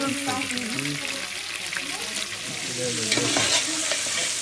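Onions tipped into a pot of cooked guinea fowl fry with a loud, bubbling sizzle and stirring scrapes, close up, while voices murmur over the cooking.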